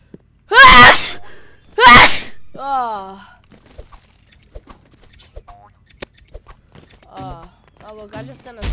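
Two loud, close sneezes in quick succession, followed by faint squeaks, rustling and small clicks, with a person speaking quietly afterward.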